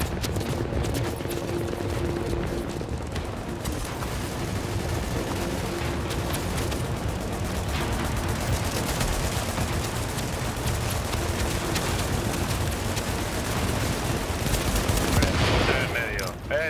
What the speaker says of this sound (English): Estoy disparando allí para destruirlo